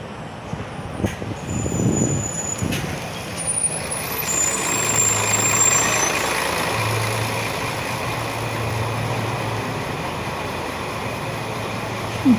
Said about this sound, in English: here comes the New Norfolk bus, the X22, all the way up to New Norfolk